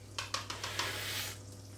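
Four whisked eggs go into a hot pan with ham for an omelette, with a few quick scraping strokes and then a steady close sizzle.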